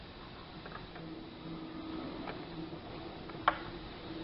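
A sewing machine runs quietly while stitching a semi Patiala salwar, giving a faint, steady mechanical whir with light ticking and one sharp click near the end.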